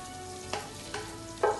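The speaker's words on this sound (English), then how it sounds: "put it in olive oil, extra virgin olive oil. You get it to brown and what we call caramelized." Onions browning in extra virgin olive oil give a quiet, steady sizzle, with three brief utensil stirs or scrapes breaking through at even intervals; the last one is the loudest.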